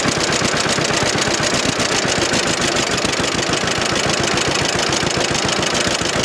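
A John Deere B tractor engine runs close by with a steady, rhythmic chugging beat that holds an even pace throughout, with no voices.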